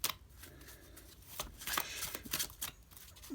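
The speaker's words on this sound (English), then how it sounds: "It's just to shuffle the cards." Pokémon trading cards are shuffled by hand, close and soft, in quick bursts of riffling and sliding.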